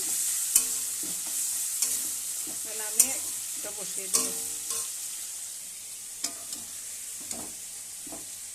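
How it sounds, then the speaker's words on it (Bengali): Prawns fry in a pan with a constant bright sizzle and occasional spatula clicks and scrapes, while a voice speaks briefly. "চিংড়ি মাছটা ভাজা হচ্ছে"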